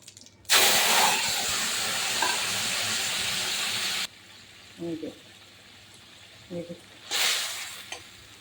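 Curry poured into a pan of hot oil tempered with bay leaf and cumin for a puti fish and thankuni leaf broth, a loud burst of sizzling steam that cuts off abruptly, then quieter bubbling, a few brief voice sounds and another hiss.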